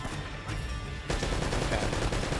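Turret gunfire in the video game Uncharted: Drake's Fortune, a loud, dense burst of rapid automatic shots that grows heavier partway through, with no talk.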